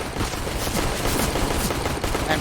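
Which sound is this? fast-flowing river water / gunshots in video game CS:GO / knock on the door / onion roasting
gunshots in video game CS:GO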